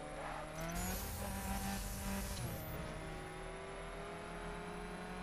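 Fiat Abarth in The Crew skidding and racing, a steady engine drone with tire squeal layered on top, loud and continuous throughout, with no voices over it.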